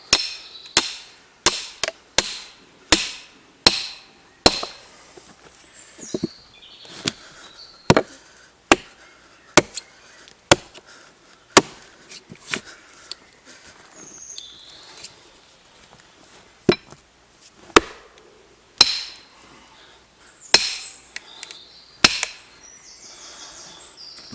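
Sharp metal-on-metal strikes ring out repeatedly, a steady series of splitting-maul blows driving a wedge into chestnut wood, quick at first then spaced out, with quiet between hits.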